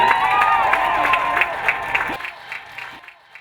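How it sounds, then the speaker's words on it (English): Crowd cheering and clapping for a bass fishing tournament champion at an outdoor weigh-in, a lively wash of applause and voices that fades out toward the end, with people talking over it. "Look at all these people cheering for you, Jayllah."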